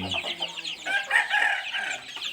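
Young chickens cluck and peep together close by in a busy, continuous chatter.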